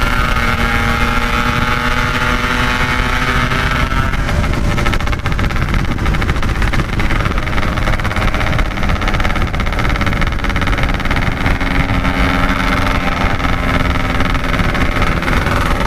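A pack of Yamaha RX King two-stroke motorcycles drives at night, a loud steady engine drone with shifting pitch whines, briefly thinning to an idling rumble before revving and sustaining again.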